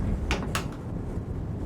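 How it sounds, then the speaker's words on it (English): A train car door is pulled open, giving two quick clattering scrapes close by over a steady low rumble of the moving train, with no one speaking. "She opened the door and went inside."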